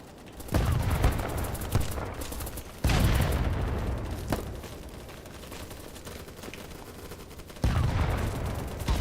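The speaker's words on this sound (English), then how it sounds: "the gunplay is exactly like Battlefield 2" Gunfire in a Roblox shooter game: loud bursts of rapid automatic fire in three separate volleys, each with a heavy thud at the onset, with scattered single shots in between.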